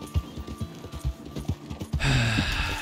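Horse hooves beat out a steady, close rhythm while riding across open country in Red Dead Redemption 2, followed by a louder burst with a short snort or whinny near the end.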